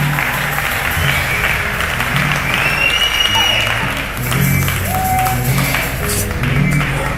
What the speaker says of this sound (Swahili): Mpe tena Yesu makofi ya shukrani kwa zawadi ya mwaka mpya.